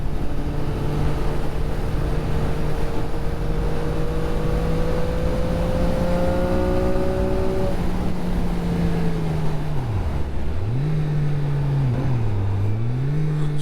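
A CF Moto 675SS sport motorcycle engine pulls steadily through the revs, its pitch rising and dropping in quick steps as the quick shifter clicks through gears, with constant wind rush under it while riding.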